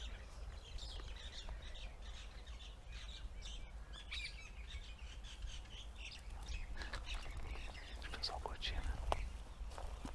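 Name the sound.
birds singing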